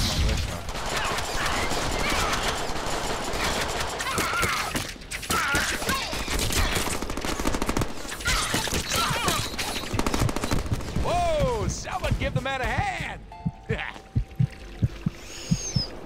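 Gunfire in the Deadpool video game: dense, rapid bursts of shots mixed with other loud game effects, then sparser single cracks toward the end.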